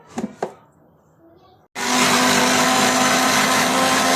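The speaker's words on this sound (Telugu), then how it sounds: "అలాగే తరిగి పెట్టుకున్న ఆనియన్స్ బ్లెండ్ చేసుకుందాం." A kitchen blender grinds chopped onions, garlic and red chillies for a spicy onion dosa chutney. It starts abruptly after a few soft knocks and runs loud and steady to the end.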